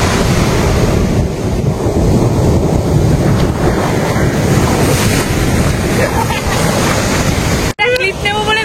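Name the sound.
sea waves at high tide on Puri beach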